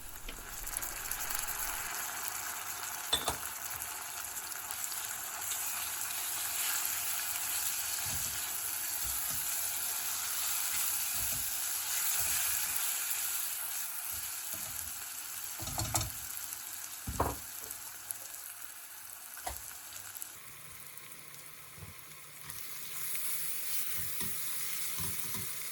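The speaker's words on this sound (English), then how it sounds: "add the cumin, garlic and ginger and fry for another minute" Cumin, garlic and ginger paste fries in a pan, a continuous crackling sizzle broken by occasional clicks and scraping stirs, with the tone shifting slightly near the end.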